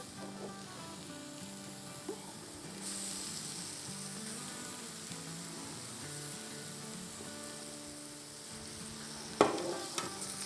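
Mashed boiled potatoes being stirred and mixed in a pan for pav bhaji, a steady soft scraping and light sizzle running throughout at close range, with one sharper clatter near the end and no talking.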